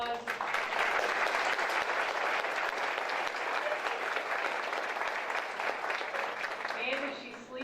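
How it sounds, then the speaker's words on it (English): A banquet audience at a school district retirement and recognition event claps for Carrie, a dense, sustained round of applause from a large room that holds steady for several seconds and then starts to taper off at the end. "So please give Carrie a round of applause."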